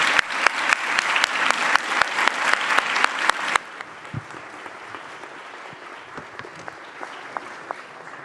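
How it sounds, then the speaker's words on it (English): A conference audience applauds its panel: a strong burst of crowded clapping with sharp, distinct hand strikes, which suddenly drops to a thinner, quieter patter of scattered claps that lingers before fading. "now please give a huge applause to our great panel"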